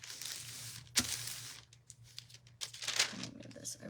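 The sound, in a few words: parchment paper being folded over sublimation earrings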